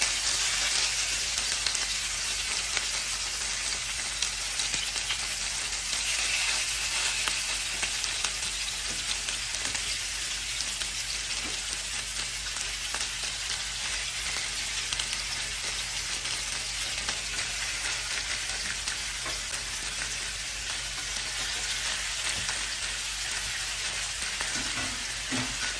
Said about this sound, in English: The oil is now hot, so the meat rolls, then